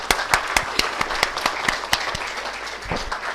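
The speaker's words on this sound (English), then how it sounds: "a round of applause for our panel" An audience at a youth innovation finale event applauds the panel, scattered hand claps ringing out sharply and irregularly over a lighter bed of clapping, fairly close and clear.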